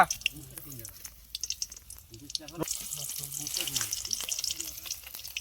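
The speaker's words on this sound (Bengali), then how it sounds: "তেল দিয়ে ভেজে নেবো" Leafy greens fry in mustard oil with dried chillies, a steady sizzle and crackle running under people talking nearby throughout.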